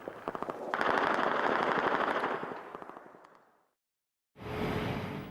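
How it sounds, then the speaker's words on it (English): Troops fire machine guns toward enemy positions at night, a dense stream of rapid bursts that swells and fades, then a sudden cut and a renewed roar of gunfire. "continue to monitor the enemy positions, firing into the night"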